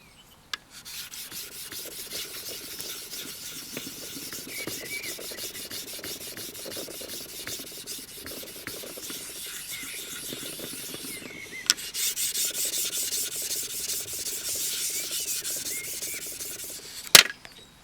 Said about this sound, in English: So you get rid of the dish shape on the whetstone.